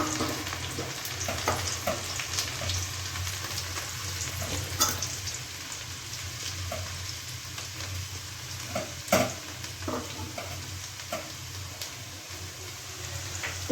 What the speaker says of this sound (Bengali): এবার রসুন কুচিগুলো তেলের মধ্যে দিয়ে দেবো।